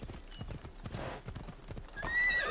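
A horse gallops in the Assassin's Creed Odyssey video game, with rapid, loud hoofbeats and a whinny near the end.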